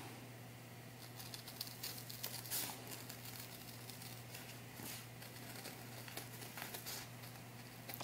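Scissors snip through a paper pattern laid over faux suede fabric for a doll vest, giving soft, close, irregular clicks and crinkles over a low steady hum.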